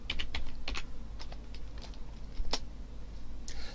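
Keys clatter on a computer keyboard in a quick, uneven burst of clicks while a Linux command is typed at a terminal, close and fairly quiet with no talk.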